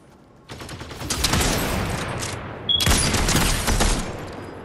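Gunfire in the Fortnite video game, two loud sustained bursts of rapid shots close by, each a dense rattling fusillade with a short pause between, no speech.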